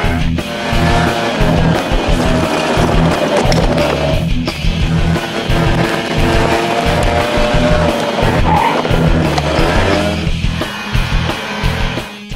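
Piaggio Typhoon 50 two-stroke scooter revved hard on its stand and then launched off it, a loud continuous engine roar rising and falling in pitch throughout with a sharp drop and surge near the launch.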